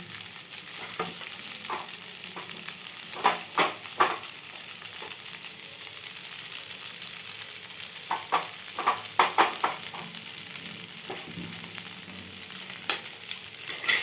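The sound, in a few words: frying in a pan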